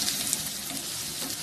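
Onions sizzling and frying in hot oil in a pan for chicken curry, with a steady close crackle and hiss that runs without pause.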